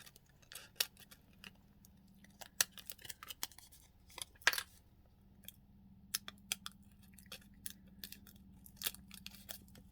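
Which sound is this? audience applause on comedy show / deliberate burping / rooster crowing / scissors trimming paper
scissors trimming paper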